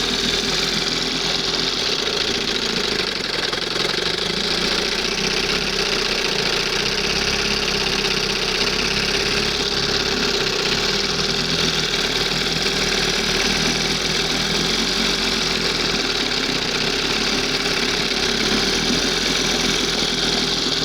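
An old 20 hp Johnson outboard motor runs in gear, giving a steady, loud mechanical drone with a rough, knocking undertone that holds without pause for the whole stretch.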